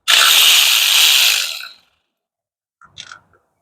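A power tool briefly whirs loose a 10 mm bolt on an automatic transmission pan and filter during a DIY fluid change. The loud, close, grinding burst lasts under two seconds, then a few faint clicks and taps follow in quiet.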